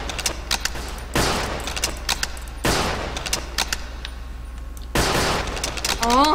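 Gunfire rattles in the Roblox game Call of Robloxia, three loud bursts of rapid shots separated by short gaps, with a brief warbling tone at the very end.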